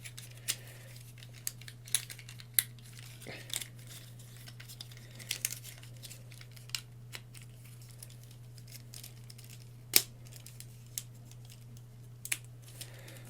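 A toy robot is transformed by folding and pulling its plastic parts out, giving faint, sparse clicks and light crinkly handling noises over a low steady hum, with no talking.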